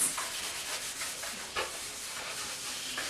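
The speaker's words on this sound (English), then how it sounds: "run it over and scrub as much as you think you need to get all the grease off" A pad is rubbed briskly over painted kitchen cabinet surfaces to scrub off grease and gloss. It makes close, repeated rasping strokes in an uneven back-and-forth rhythm, with no one speaking.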